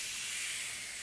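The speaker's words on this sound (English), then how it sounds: "Hear that nice sizzle." Pork shoulder sizzles on a lightly oiled, smoking-hot grill pan, a steady bright hiss heard close up for about a second with no talk.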